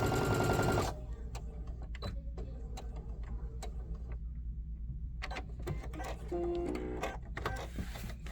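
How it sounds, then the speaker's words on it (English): A domestic sewing machine runs a short burst while stitching a wine bag seam shut, followed by quieter clicks, handling and taps in a fairly quiet room, with a brief second stretch of whirring near the end. "So I'm just going to sew that seam shut."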